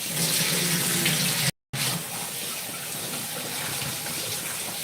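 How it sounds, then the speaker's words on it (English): Running tap water pours steadily and loudly over fresh broccoli being washed in a kitchen sink, with one brief break in the flow. "I just need to wash the broccoli once so that I can cut them into small pieces"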